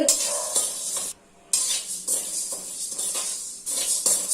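Black pepper dry-roasting in a pan for homemade sambar powder, a steady scraping stir and light rattling sizzle running in bursts, with one short pause partway through; no talking.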